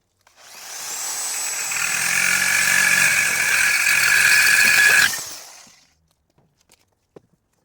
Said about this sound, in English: I'm going to need to go and cut these ends off